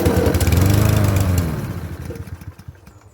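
A Cub Cadet lawn mower engine with a faulty carburetor catches briefly after a pull start, sputtering loudly for about a second and a half, then fading and dying out in uneven coughs.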